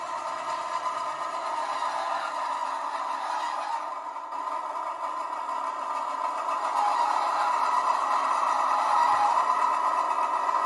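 Model Class 43 locomotive diesel engine from a LokSound sound chip through a round bass speaker, slowing down: a steady droning hum that holds its level throughout with slight shifts in tone.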